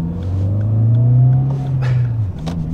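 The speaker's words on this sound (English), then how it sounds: "It is a bit drony with that exhaust, but it drives nice." A Volkswagen car with a droning aftermarket exhaust pulls out of a junction, its low engine note rising steadily and holding loud and close from inside the cabin before easing off near the end.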